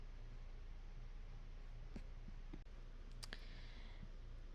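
Computer mouse clicks on a quiet desk during database work, a few sharp, faint isolated clicks spaced over steady background hiss with no talking.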